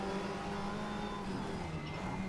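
Race cars on a short straight in a racing video game, engines droning at a steady high pitch as two cars are overtaken, a continuous moderately loud whine with no talk over it.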